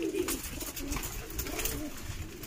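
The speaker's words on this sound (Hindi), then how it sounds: "बहुत कबूतर सेल में मिलेगा आपको।" Madras pigeons at a bird sale, soft low cooing repeated steadily up close among rustling and faint background noise, no speech.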